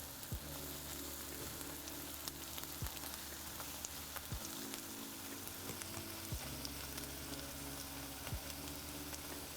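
Chopped onion sautéing in a pan for a duck breast and risotto dinner, a steady close sizzle and crackle with occasional soft stirring clicks, no talking.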